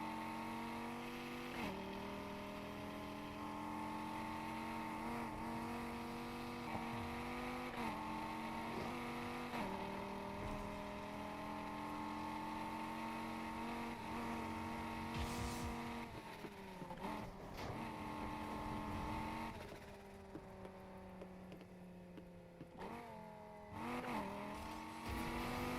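Engine of a Need for Speed Heat car driving at high speed, a loud, steady drone rising through the gears with brief dips at each shift, running alone for the whole stretch.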